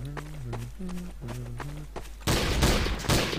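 Gunfire in Trouble in Terrorist Town: a sudden loud volley of shots bursts in near the end, following a stretch where someone talks.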